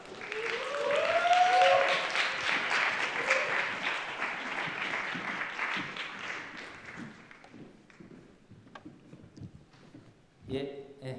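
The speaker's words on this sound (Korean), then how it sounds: "우리 박수로 환영해 주시면 감사하겠습니다" A church congregation at a youth worship service applauds in welcome, steady broadband clapping that fades after about seven seconds, with a voice talking over the start and a brief knock near the end.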